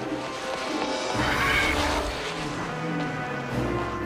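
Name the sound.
car engine in TV show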